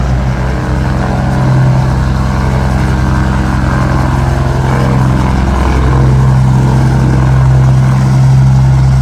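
Aircraft at Lincoln Regional Airport, a loud steady engine and propeller drone with a sustained low hum that holds near and constant throughout, with no talking.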